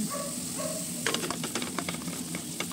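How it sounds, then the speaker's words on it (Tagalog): Garlic sautéing in melted margarine in a hot pan gives a loud, continuous sizzle, with scraping stir strokes breaking in after the first second. "Maglagay tayo ng margarine. At igisa natin ang bawang."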